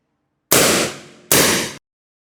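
Two sharp PCP air rifle shots from a Cobra P60, each a loud close crack with a ringing tail, fired about a second apart with no talk.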